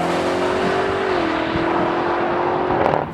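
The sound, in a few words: twin turbo V8 car engine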